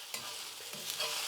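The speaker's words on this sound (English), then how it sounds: "add a little bit more oil to this pan, and then crisp it up" Oil sizzling and crackling steadily as a tortilla crisps in a pan, a faint continuous fry with a few soft stirring scrapes.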